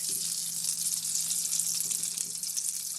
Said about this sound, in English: we got the lard in the pan, getting nice and hot